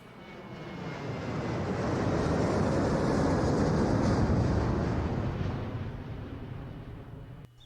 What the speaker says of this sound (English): Gabriel picks up his tickets at the airport and boards a plane for Munich.